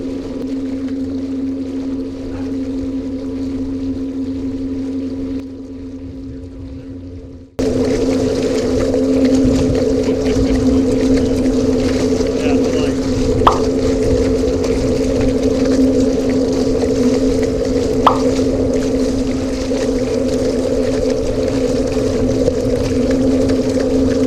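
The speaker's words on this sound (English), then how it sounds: "that allows me to stop the motor and cycle through the 12 speeds of forward and 3 speeds reverse" A fast paddlecraft fitted with a multi-speed electric motor runs on water, giving a steady droning hum that jumps louder after a brief quieter stretch, then holds with faint splashing and a couple of small clicks.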